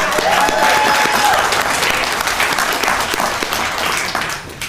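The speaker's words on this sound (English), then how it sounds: "I think the parents also deserve a round of applause." An audience claps for the students' parents at a school recognition ceremony, a loud and dense round of applause that stays steady for several seconds before easing slightly toward the end.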